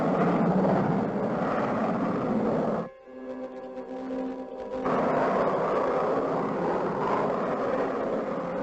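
A space freighter blasting off in a movie: a broad, loud rocket roar that dips into a brief hollow rumble midway, then surges back to a steady blast, with no talking.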